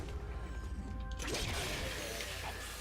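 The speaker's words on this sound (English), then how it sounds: "Wow, I'm surprised that explosion didn't kill him." An explosion in the video game Killer is Dead bursts in as a broad crash over steady game sound, a single loud blast that trails off into a sustained noisy wash.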